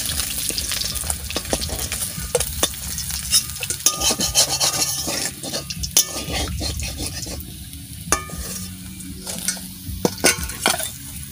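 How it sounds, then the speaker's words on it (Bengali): Sole fish sizzles steadily as it fries until reddish in a pan, with scraping stirs and occasional sharper clinks and crackles over a continuous hiss; no one speaks. "এরকম লাল লাল করে আমি ভাজা করে দিচ্ছি"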